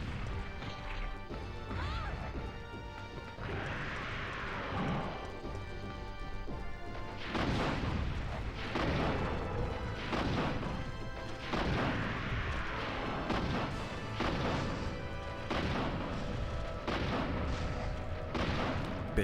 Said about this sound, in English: Eat those rockets.